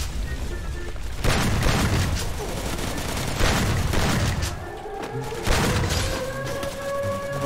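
Shotgun blasts ring out in the video game Free Fire as loud, booming shots roughly every two seconds over a continuous background of game noise.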